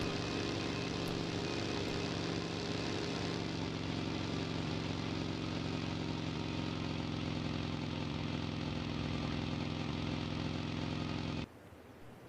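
Vehicle engine in the PUBG Mobile video game, a steady droning motor hum running continuously for about eleven seconds before cutting off abruptly, with no talking.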